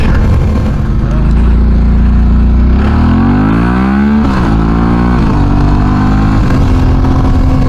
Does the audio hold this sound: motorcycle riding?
yes